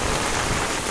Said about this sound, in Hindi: ये देखो ज़बरदस्त बारिश।